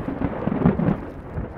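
Thunder rumbles low and muffled on a high mountain scramble near Lake Louise, Alberta, a short rolling boom heard outdoors with no voices.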